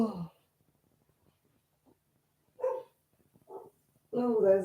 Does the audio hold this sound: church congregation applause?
no